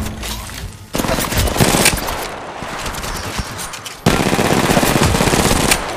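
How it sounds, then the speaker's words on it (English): Close, loud automatic gunfire in Apex Legends Mobile fires in rapid sustained bursts, with a brief pause in the middle before another heavy stream of shots. "Opening fire."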